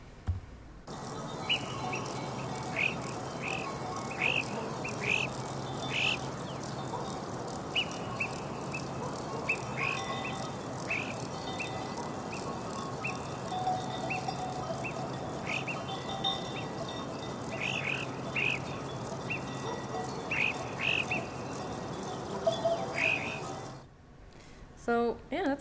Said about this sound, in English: there's cows in there, there's lots of insects. The crickets in Italy are super loud